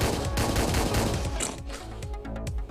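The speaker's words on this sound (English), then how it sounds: "They hear the guns, you know, they come running." Loud, dense bursts of rapid gunfire from the Hotline Miami 2: Wrong Number video game, shots stacking into a steady fusillade that continues throughout without speech.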